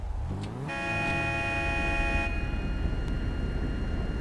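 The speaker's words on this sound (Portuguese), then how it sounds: "Quando eu apertar a buzina." A car horn blares in one long, steady honk lasting well over a second, loud and close over the rumble of a running engine, which carries on after the horn stops.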